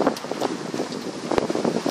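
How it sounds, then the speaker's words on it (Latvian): Strong gusts buffet the microphone outdoors beside a highway near a large shopping area, a continuous roaring rumble with sharper puffs and one hard thump, close and loud with no voices. "Atvainojos par vēju."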